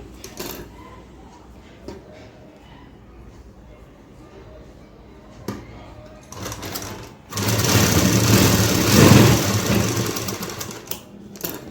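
A sewing machine stitching cloth, heard first in short bursts and then in a loud, steady whirring run of rapid needle clatter near the end, recorded close up.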